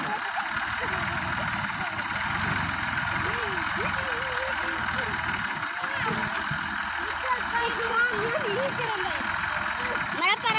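A Massey Ferguson MF 260 tractor engine runs steadily at a low idle, a moderate background drone while someone talks over it throughout.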